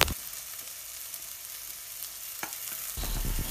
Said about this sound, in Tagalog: igigisa lang natin tong ating mga secret ingredients ha, hanggang lumambot